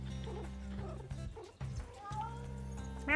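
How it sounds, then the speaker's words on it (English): A cat meows in the zoo-management game Two Point Zoo, with a few drawn-out, wavering meows over a steady, droning game-music background. "Meow."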